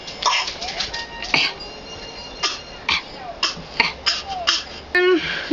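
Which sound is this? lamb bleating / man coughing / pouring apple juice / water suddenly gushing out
man coughing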